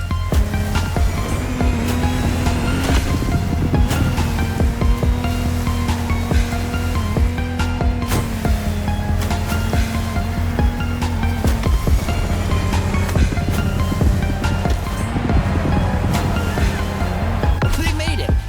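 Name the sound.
Lamborghini Technomar speedboat on water in The Crew Motorfest video game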